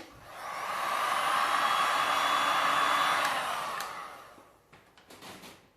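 A heat tool blows hot air over a resin piece with a steady, close breathy roar that holds for several seconds and then trails off into faint clicks.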